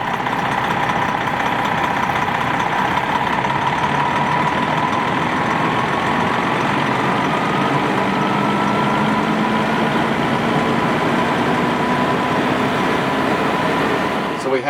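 A Van Hool bus diesel engine runs during a forced regeneration, producing a loud, steady drone with a faint rising whine held throughout.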